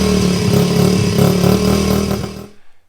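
A Honda CRF50 motorcycle engine runs to warm up, a loud, close, steady buzzing idle with slight revving, then it cuts off abruptly near the end.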